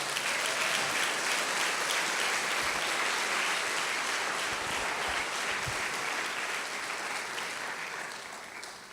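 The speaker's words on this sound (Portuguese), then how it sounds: "Dá um aplauso bem forte ao Senhor." A church congregation applauding loudly, a sustained, dense wash of many hands clapping at a constant level that fades slightly toward the end.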